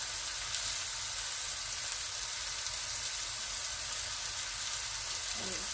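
Onions and peppers frying in a pan for a chuck pot roast, a soft, steady sizzle heard fairly close but at low level, continuing evenly without speech.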